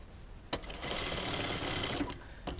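A sewing machine stitches fabric for a bra cup, starting with a sharp click and then running in a steady, close, whirring burst for about a second and a half before stopping with a couple of clicks, with no speech.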